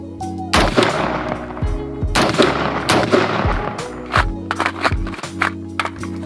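A Smith & Wesson M&P15 Sport II rifle in 5.56 mm fires a string of loud, sharp shots in quick irregular bursts, each crack ringing briefly over a low background hum.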